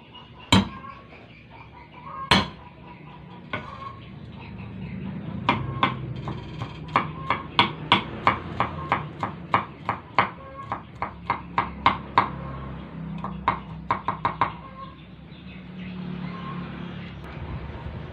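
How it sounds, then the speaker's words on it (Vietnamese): Three garlic cloves being crushed and then minced with a knife on a cutting board: a few sharp isolated smacks, then a quick run of crisp chopping taps, close and distinct, over quiet background. "chuẩn bị 3 tép tỏi này các bạn mình sẽ đập dập và băm nhỏ"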